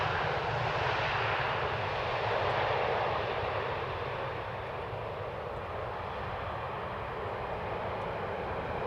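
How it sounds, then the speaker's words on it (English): A Transavia airliner that has just landed at Amsterdam Schiphol rolls past the first exit with a steady, moderately loud engine roar that eases slightly as it continues. "Transavia just now landed and is forgoing the first exit"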